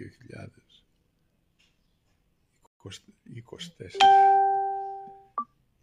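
A single clear phone notification bell rings out and decays over about a second, after brief speech, with a short second ping at the end.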